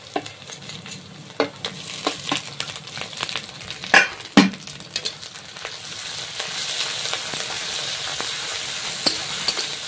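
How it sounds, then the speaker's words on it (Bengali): Onion fries in oil with garlic and ginger paste added, giving a soft sizzle with sharp clinks and scrapes of a spoon early on, then a fuller, steadier frying hiss building up, close by and without talk. "পেঁয়াজটা একটু লাল লাল করে ভাজা হয়েছে, এই যে একটু রসুন বাটা দিয়ে দিচ্ছি আর আদা বাটা দিয়ে দিচ্ছি"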